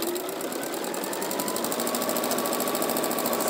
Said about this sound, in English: So let's sew down here.